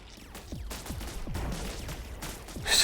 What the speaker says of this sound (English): So this was a major explosion right into the swarm.